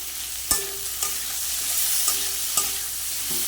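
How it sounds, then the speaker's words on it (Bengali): Bitter gourd and potato, seasoned with salt, turmeric and green chilli, frying in a pan: a constant sizzle broken by about five sharp spatula knocks and scrapes against the pan. "উচ্ছে আলুটা আমার ভাজা হয়ে গেছে।"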